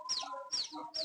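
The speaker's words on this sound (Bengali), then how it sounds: "এই যে আমার মুরগি দেখেন, বাচ্চা নিয়ে খুব আরামে আছে" Hen clucking beside her newly hatched chicks, three short repeated call bursts with high chirps close by, steady and fairly loud with no talk.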